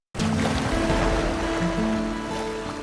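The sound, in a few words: strong sea current sweeping away houses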